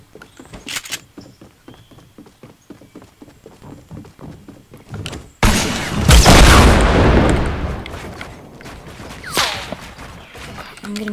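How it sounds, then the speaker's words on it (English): Sniper rifle shots in Fortnite Battle Royale: a run of quick clicky game sounds, then a sudden loud, near crack with a long booming tail, a second sharp report a few seconds later. "I'm getting sniped at"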